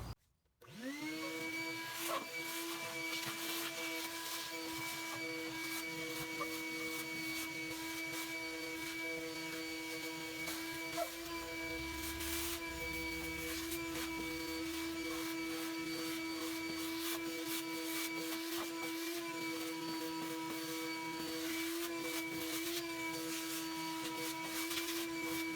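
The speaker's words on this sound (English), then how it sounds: "I'm just going to vacuum it out real quick" Shop vac cleaning out a Pit Boss pellet grill, switching on with a rising whine that settles into a loud steady roar for the full stretch, with occasional rattles and sucking shifts as debris is pulled in.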